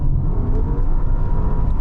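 A Maserati Ghibli Trofeo accelerates with a loud, deep, continuous engine rumble close by, steady throughout the short burst without speech.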